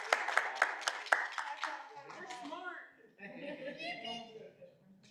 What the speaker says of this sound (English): Everyone get a round of applause